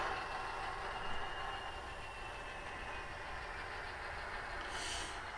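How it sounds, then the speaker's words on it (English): A diesel locomotive's prime mover rumbles steadily and evenly after the throttle is cut, holding a smooth low idle with a constant drone and no other sounds. "you can hear that prime mover get a little quieter as it slowly starts dropping down to a nice smooth idle"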